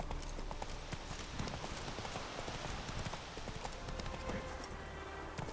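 The horse Roach gallops in the video game The Witcher 3, with steady, rapid hoof clip-clops at moderate distance and a continuous rushing background under them.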